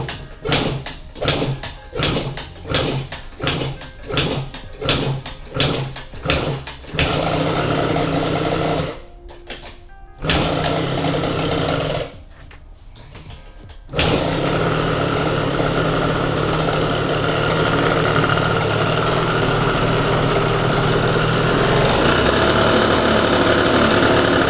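A Nitro MHR scooter with a 77cc big bore engine is kick-started with rapid sputters, catches and settles into a loud, steady buzzing idle up close.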